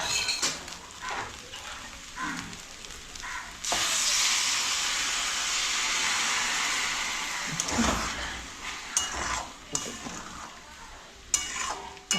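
A spoon stirs rice around a cooking pot, scraping and clinking near the mic, and a bright hiss of steam or sizzle swells up partway through before the knocks of stirring resume.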